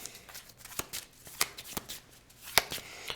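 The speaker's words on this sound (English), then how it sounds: "Shuffle, draw." A deck of cards for the deck-building board game Clank! Catacombs is riffled and shuffled up close, giving quiet rapid flutters broken by a few sharp snaps, with no talking.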